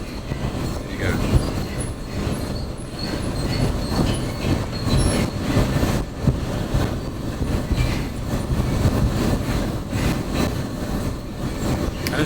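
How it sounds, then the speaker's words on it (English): Steady, loud rumble and rattle from inside a moving train carriage in France on a juddery ride, with continuous wheel clatter and faint squeals, heard without talk. "We are on a train and it is very juddery."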